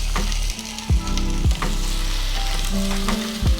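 Garlic sizzles and fries steadily in a hot pan, with tomatoes being added for a halibut dish; the close, continuous crackle is broken by a few stirring scrapes and soft knocks.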